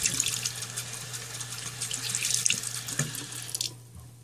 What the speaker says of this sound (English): I just like to get it all rinsed out of my cloth pad as best as I can